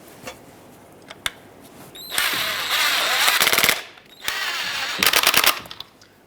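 A power tool drives two screws into a tailgate handle assembly on a 2011-2018 Ram 2500, two loud sustained buzzing bursts after a few faint clicks.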